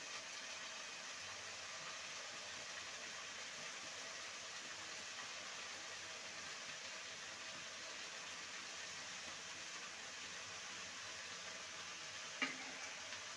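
Prawns rubbed with salt and turmeric frying with vine spinach in a pan, a steady, even sizzle throughout with one brief clink near the end.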